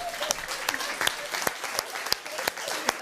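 Audience applause for a three-piece cabin-band music trio at a Swiss rural cooking show finale: steady, fairly close clapping from a small crowd with sharp individual claps standing out, lasting about three seconds.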